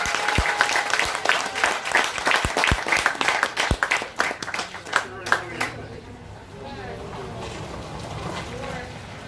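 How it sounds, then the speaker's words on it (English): Applause at a school awards ceremony, crisp, fairly close clapping for several seconds that tapers to sparse claps and fades, after which a voice begins speaking. "give them another round of applause"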